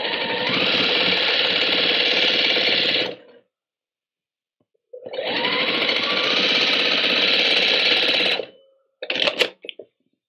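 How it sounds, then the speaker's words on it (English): A sewing machine stitches fabric binding on a handmade pouch at a quarter-inch seam, running in two long steady close bursts with a pause between, followed by a few short stitches and no talk. "I'm going to go stitch this at about a quarter of an inch,"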